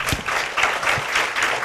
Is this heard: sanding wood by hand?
no